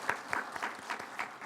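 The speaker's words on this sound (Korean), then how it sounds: "시온 찬양대에게 감사의 박수와 그리고 하나님께 영광의 박수를 한번 올려드리도록 하겠습니다" A church congregation applauds its Zion choir after a Sunday hymn, a short, steady burst of many hands clapping together at moderate distance, with no talk over it.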